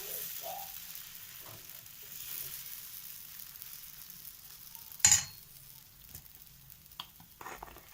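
Ragi and banana adai batter spread thinly on a hot pan, a quiet steady sizzle with small scraping sounds and one sharp metallic clatter partway through.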